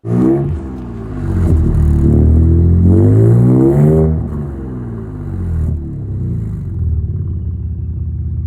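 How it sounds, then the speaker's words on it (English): A Ford Ranger Raptor's 3-liter twin-turbo EcoBoost V6 revs loudly up close, its engine note rising and falling in strong sweeps before settling into a steadier idle-like rumble. "This is a V6 twin-turbo engine, and it's a monster."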